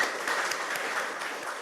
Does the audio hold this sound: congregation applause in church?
yes